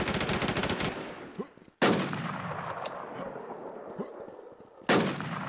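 Gunfire in a shooter video game, several loud shots or short bursts with sharp onsets that decay into a reverberant tail, the last one near the end.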